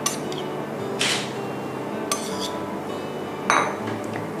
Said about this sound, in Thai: ทีนี้ก็คลุกเคล้าส่วนผสมทั้งหมดนะคะให้เข้ากันดี